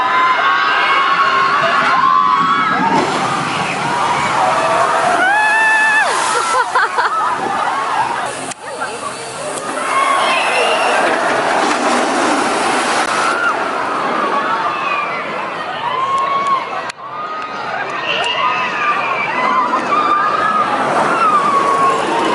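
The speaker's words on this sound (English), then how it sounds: "The ride we're looking at now is the tidal wave." The Tidal Wave water ride at Thorpe Park: a crowd's loud excited screaming and cheering swells and fades over a wash of splashing water, with children shouting throughout.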